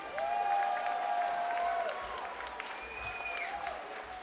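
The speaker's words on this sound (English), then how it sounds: "a round of applause for these two warriors" A crowd at a Chosen Few Fighting Championship MMA event applauds two fighters after a round-two knockout, a steady wash of clapping with a few higher cheering tones carrying over it.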